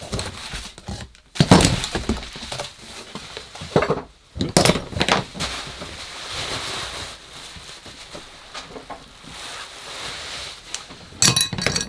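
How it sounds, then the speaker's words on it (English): A parcel of old rusty tools is torn open, with scattered crackling and ripping bursts and sharp metallic clinks and thunks as the tools shift and knock together, all fairly close. "I'll just do the quick unwrap unceremoniously"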